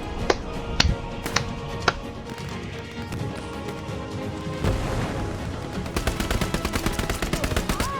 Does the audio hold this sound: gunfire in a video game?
yes